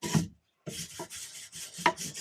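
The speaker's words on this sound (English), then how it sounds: "Brush it with some steel brushes, wire brushes" Wire or steel brush scrubbing a wooden surface on an off-grid tiny home build, bursts of close, raspy rubbing strokes broken by a short pause.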